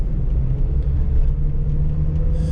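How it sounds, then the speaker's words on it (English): A 1993 VW Polo 1.0i with a 45 hp engine accelerating, its steady low engine drone and road rumble filling the cabin from start to finish, close and fairly loud, with no talk. "I will accelerate now again"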